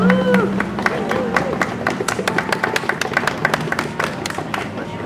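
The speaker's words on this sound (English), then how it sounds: "I ask for a round of applause for him as well" Scattered hand clapping from a small group, uneven and moderately loud, with a brief tonal sound at the start.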